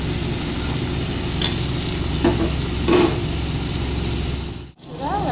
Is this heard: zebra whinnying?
no